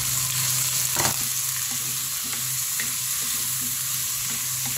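Chicken pieces sizzle and fry in a hot pan with ginger and onion, a steady loud crackle with occasional stirring scrapes and clinks, no talking.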